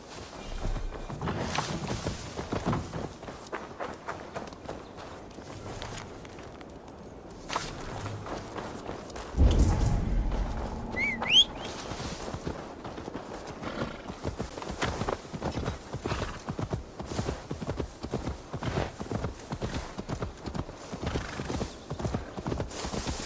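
Hooves clip-clop steadily as a horse is ridden in Assassin's Creed Valhalla, the rhythmic beats continuing throughout with a brief whinny and a heavier thud partway, over faint ambient game sound.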